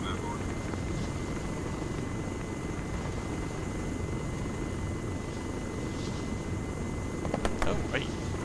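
Helicopter rotor and engine drone of an aircraft lifting off in the Arma military video game, a steady broad roar throughout, with occasional faint game sounds near the end.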